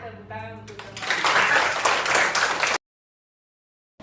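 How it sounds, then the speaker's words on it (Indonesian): An audience of teachers at an education workshop bursts into applause for their colleagues after a short spoken line, a dense clapping for about two seconds that cuts off abruptly. "tepuk tangan untuk teman-teman"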